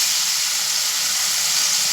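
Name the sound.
tomatoes sizzling as added to frying homemade masala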